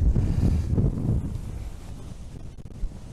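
Strong wind during rain buffets the microphone on a rooftop, a dense low roar that is loudest at first and then eases to a steadier, softer rush.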